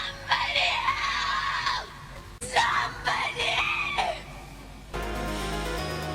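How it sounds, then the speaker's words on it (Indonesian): A woman screams in terror for help in the horror film The Ruins, two long, loud, strained screams one after another, followed by a low ominous rumble. "Wanita itu terlihat ketakutan setengah mati sambil berteriak minta tolong"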